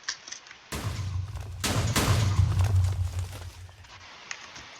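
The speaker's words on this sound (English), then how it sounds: "So this cannon shoot first, then that last one." Redstone artillery cannons fire in Minecraft: two heavy blasts a second apart, each bursting sharply and then rumbling on with a crackling tail before fading back to a quiet background.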